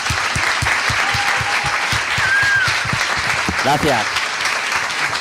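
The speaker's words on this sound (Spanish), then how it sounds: "os pido un último aplauso para ellos 6" Audience applause at a book presentation, dense steady clapping filling the whole stretch, with a brief spoken thank-you near the end.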